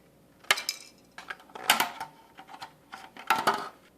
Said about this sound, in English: So I'm going to go ahead and cut that out